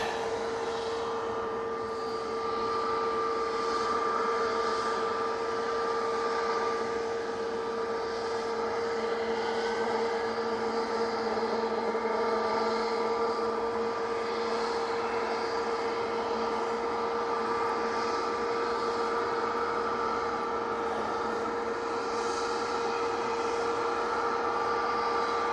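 Aer Lingus propeller airliner arriving at Manchester Airport, a steady droning engine hum with sustained propeller tones, moderately distant and continuous throughout with no voices.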